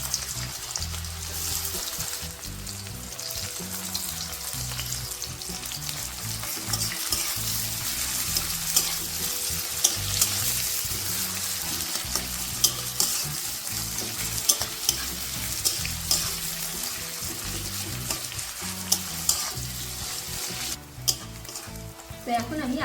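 Chopped onion sizzles steadily in hot oil with whole cloves, cinnamon and cardamom while being stirred for an egg masala, a continuous close frying hiss with small crackles and no talking.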